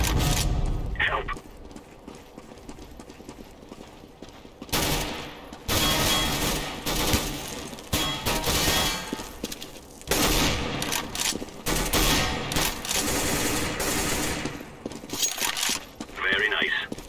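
Rapid gunfire from CS:GO comes in several loud bursts, with dry automatic rattles and single shots between quieter stretches, and game voices can be heard in the gaps.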